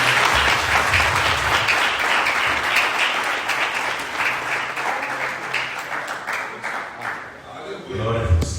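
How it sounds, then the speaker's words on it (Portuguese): A church congregation applauds at the close of a sermon, a dense, steady wash of many hands clapping that holds loud for about eight seconds before thinning out slightly near the end. "Uma salva de palmas."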